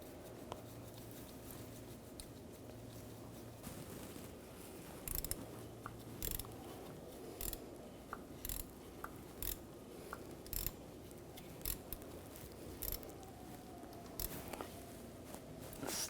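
Metal bolts being threaded and tightened by hand on a vehicle speed sensor of a 2013-2019 Ford Escape 2.0L L4, giving faint, irregular clicks and light ratcheting scrapes over a low background hum.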